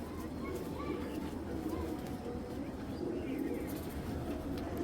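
Two pigeons coo softly in low, rounded calls amid a murmur of background activity, fairly quiet and at a short distance.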